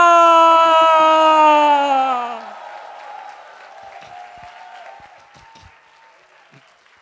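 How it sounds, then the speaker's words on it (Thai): The tail of a loud horn blast fades into a church congregation clapping and shouting with joy, the crowd noise softer and continuous for the rest of the clip. "ให้เราปรบมือโห่ร้อง"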